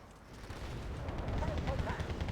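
Gunfire in the real-time strategy game Wargame: Red Dragon, a dense, continuous rattle of shots with overlapping bursts rising in intensity, mixed with game effects and a voice talking over the action.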